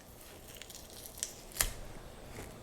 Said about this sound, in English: you can cut these off as well